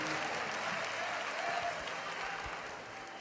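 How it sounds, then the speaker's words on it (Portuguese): A church congregation applauding during a worship service, a steady, fairly distant wash of many hands clapping that fades slightly toward the end, with no voices on top. "os que podem, tomem seu assento aplaudindo a Jesus"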